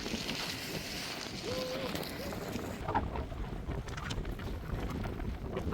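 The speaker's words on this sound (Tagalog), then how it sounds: "Kasi ang hangin dito." Steady wind buffets the microphone with a constant rushing roar, and a voice talks briefly underneath near the middle.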